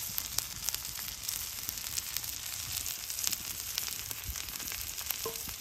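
Fish pieces coated in spices sizzle and crackle steadily in hot oil, a close, moderate frying hiss with occasional pops and no voices.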